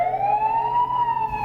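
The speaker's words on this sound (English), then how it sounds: "fleets of ambulances filled 7th Avenue at the St. Vincent emergency entrance" An ambulance siren wails near and loud on a city avenue during a mass-casualty emergency, one steady rising-and-falling tone over low traffic rumble.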